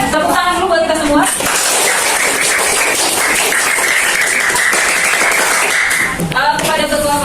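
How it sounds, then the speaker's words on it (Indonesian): A school class claps together for about five seconds in a burst of close, busy clapping, framed by a teacher's voice speaking just before and just after. "Terakhir kali mungkin tepuk tangan dulu buat kita semua."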